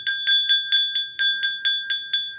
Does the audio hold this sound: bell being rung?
yes